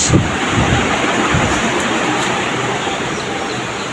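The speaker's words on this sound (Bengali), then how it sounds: "বৃষ্টি পড়তেছে বাহিরে অনেক বৃষ্টি" Heavy rain pours steadily outside a home, a dense, continuous roar with a faint low rumble underneath and no voices.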